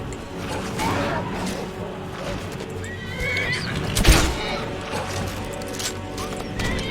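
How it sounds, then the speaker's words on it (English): A horse neighs and whinnies in the game Skyrim over a busy, rumbling background, with a sharp crash-like burst partway through. "Is that a horse and a deer fighting?"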